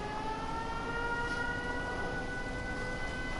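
An air-raid style siren wails steadily in a Fallout video game set among Deathclaws, a sustained droning tone heard alone at low volume.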